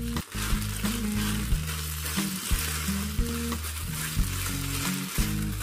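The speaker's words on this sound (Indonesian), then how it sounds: "Kemudian langsung diaduk sampai semua benar-benar rata dan matang" Bakpao filling of chicken and red beans sizzles and fries in a pan while being stirred, with steady crackling and occasional scrapes, over quiet background music.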